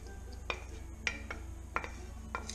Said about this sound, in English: Just kind of stir it in there, make sure it gets in there good.